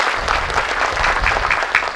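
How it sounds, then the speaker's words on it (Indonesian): Crowd applause for the Minister of Health at a hospital modernization groundbreaking ceremony in Borong, a dense, steady clapping from a large audience that stays loud for the full two seconds. "Tepuk tangan sekali lagi untuk Bapak Menteri"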